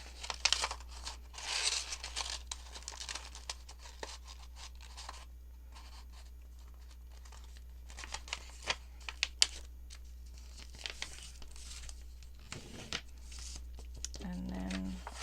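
Close, quiet crinkles and rustles of paper being folded in thirds to make a junk journal pocket, coming in scattered bursts with soft pauses between them over a low steady hum.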